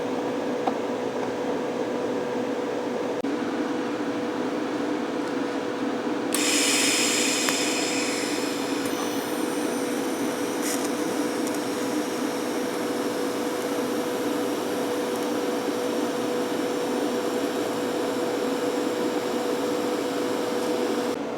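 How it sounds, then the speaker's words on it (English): An Amico TIG 200 welder joins a nut onto a steel pipe, giving a steady electrical hum and hiss under a constant tone, with a brighter crackling band coming in partway through. "I'm going to give it a go and try to weld this nut onto this piece of pipe"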